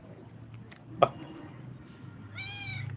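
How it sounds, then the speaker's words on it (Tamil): A kitten gives a short, thin meow near the end, faint against quiet room background, preceded by a sharp tap or knock. "பூனை குட்டி"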